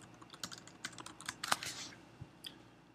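Typing on a computer keyboard: a quick, irregular run of soft key clicks, fairly close but quiet, with no voices over it.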